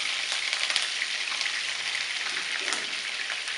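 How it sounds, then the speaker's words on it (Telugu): Green chillies sizzle and crackle steadily in a hot oiled pan for shark puttu curry, a dense close frying hiss with small pops, no talking. "ఇప్పుడు పచ్చిమిర్చి వేసుకుందాము."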